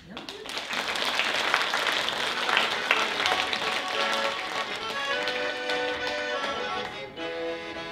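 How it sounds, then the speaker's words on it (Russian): An audience applauding at a regional accordion folk festival: dense, sustained clapping fills the first several seconds, then thins and fades as steady musical tones take over. "Аплодисменты."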